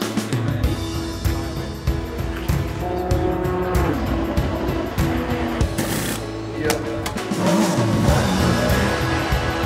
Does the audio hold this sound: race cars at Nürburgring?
yes